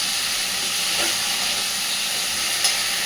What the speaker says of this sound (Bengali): পটলগুলো দিয়েও আরও মিনিট 2-3 খুব ভালোভাবে মশলার সাথে কষে নেব।